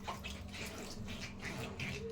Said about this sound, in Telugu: ఇప్పుడు వాటర్తో కడిగేస్తున్నాను.